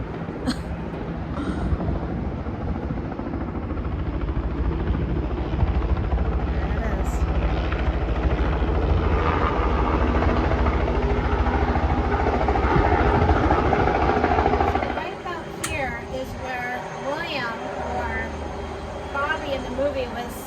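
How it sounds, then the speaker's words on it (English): Loud, continuous rotor thrum of a helicopter passing overhead outdoors in Florida for most of the clip, fading abruptly, with people talking underneath. "There goes the helicopters again."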